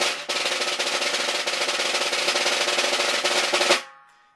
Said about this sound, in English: A good pulse for a buzz roll at 60 beats per minute would be about